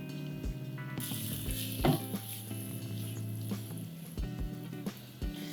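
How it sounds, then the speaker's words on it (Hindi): Finely chopped tomatoes dropped into oil with onion and spices in a pan for broccoli sabji, a steady close sizzle with faint clinks and stirring, no talk. "अब इसमें जाएंगे 2 बारीक कटे हुए टमाटर।"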